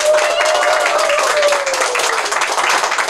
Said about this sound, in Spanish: Este aplauso de todos para cerrar el día es para vos